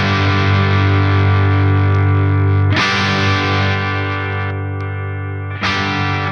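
Electric guitar through a Friedman IR-X twin-channel valve preamp with the bright switch set left: thick, distorted chords ring out and sustain, with two fresh strums restarting the sound midway and near the end.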